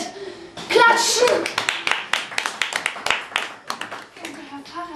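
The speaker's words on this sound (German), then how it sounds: "Die Leute klatschen Maridel zu, wie sie die Dose in die Höhe hält." Audience applause for a girl holding up an unopened tin can at an open-day storytelling performance: a burst of dense clapping that thins into scattered claps, with a voice and faint chuckles mixed in.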